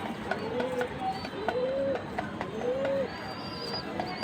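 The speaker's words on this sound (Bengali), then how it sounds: "এই যে এটা হচ্ছে নাপ্তা কবুতর।" A male Naptha pigeon coos nearby in a few soft, repeated rising calls against steady background noise, with faint chirps of other birds.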